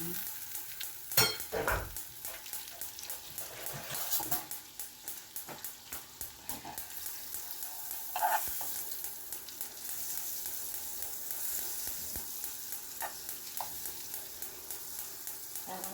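Fish fillet frying in butter in a pan, a constant close hissing sizzle with occasional sharp clinks and scrapes of a utensil against the pan.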